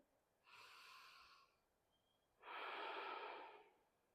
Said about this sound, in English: Slow Ujjayi breathing.